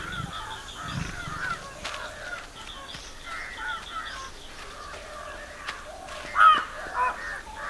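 Crows caw repeatedly in a forest in Bandhavgarh, India, after tigers leave a kill. The harsh calls come in scattered bursts at moderate distance over a low background hum, and one louder caw rises near the end.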